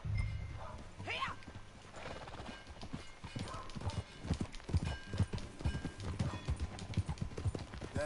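Horse hooves clip-clopping steadily with a whinny early on in the Western video game Red Dead Redemption 2, close and continuous, with in-game voices talking over the riding.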